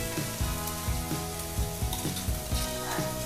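Jackfruit stir-fried with pounded curry paste in a pan sizzles steadily, with rhythmic scraping and clattering strokes of a spatula repeating about every half second, close and fairly loud.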